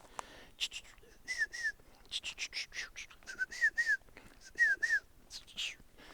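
A person softly whistles short, high two-note phrases imitating a mountain chickadee, repeated several times with quiet breathy sounds between.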